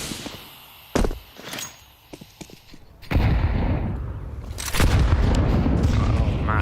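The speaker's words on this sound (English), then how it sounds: "massive grenade at the start" A grenade blasts in Counter-Strike during an ESL Pro League match: sharp booms and gunshots ring out near, then a heavy sustained explosion rumbles in, loud, with faint commentary beneath.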